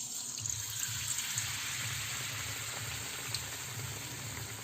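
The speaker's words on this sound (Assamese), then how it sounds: "স্লাইজৰ পকৰিকেইটা ৰঙচুৱা হোৱালৈকে ভাজি ল'ম।" Battered bread pakora slices fry steadily in a pan of hot oil, giving a continuous, even, hissing sizzle that stays close and loud the whole time, with no voices.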